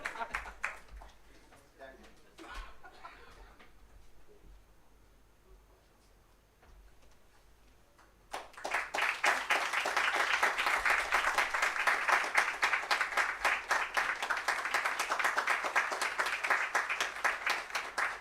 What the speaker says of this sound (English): please give a round of applause for Professor Subhaditya Bhattacharya